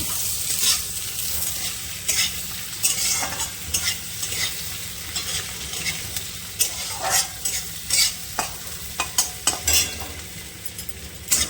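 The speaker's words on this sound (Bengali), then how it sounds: "পেঁয়াজটা একটু লাল লাল হয়ে যাক" Onion fries in a pan with a constant sizzle while a spatula stirs it, knocking and scraping against the metal in irregular bursts, close and without talk.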